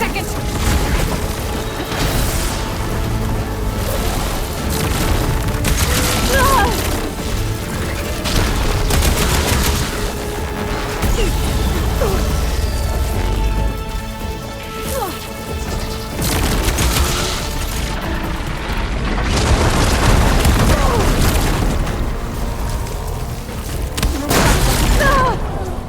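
Loud, dense game combat from Horizon Forbidden West, a plasma explosion amid booming blasts, crackling bursts and mechanical whirs continuing throughout with hardly a pause.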